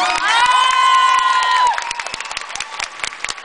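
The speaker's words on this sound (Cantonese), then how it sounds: "多謝你哋先，俾掌聲我啦！" An audience at a concert cheers and screams loudly, with a sustained high-pitched crowd shriek for almost two seconds, then settles into dense clapping and scattered shouts.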